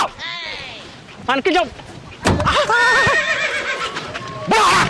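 A horse whinnies in several loud, wavering bursts, with brief thumps and background movement between the calls.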